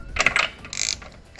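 A wrench tightens the transparent oil filter cap on a Honda Vario scooter, giving two short bursts of close metallic ratcheting clicks, with nobody talking.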